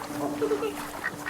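Nearby ducks quack in a short, brief burst while a voice talks over them.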